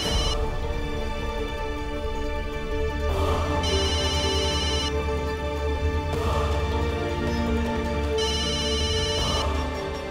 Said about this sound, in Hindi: पापा ये नेहा क्यों आपको फोन कर रही है?